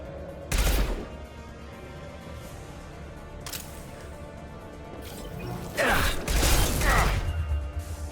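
Weapon fire in the video game Mass Effect 2: loud, separate bursts of shots with clattering mechanical noise, a sharp volley early on and a heavier flurry later, over quieter background noise.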